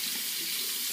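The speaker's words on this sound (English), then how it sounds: "we're going to run a little hot water, heat up the blade" A bathroom sink tap runs steadily with hot water to warm a razor blade before a shave, a constant close hissing stream with no talk.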